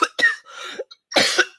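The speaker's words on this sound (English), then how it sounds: "sorry about the coughing" A fit of three or four close, loud coughs in quick succession, with short gaps between the bursts and no speech.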